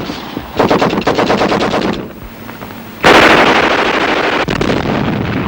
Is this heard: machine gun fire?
yes